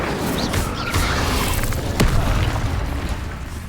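An Incendio fire spell cast in Hogwarts Legacy bursts with a dense, roaring boom against a loud, busy backdrop of game combat noise, peaking sharply around the middle.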